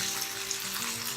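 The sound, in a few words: fish frying in oil in a pan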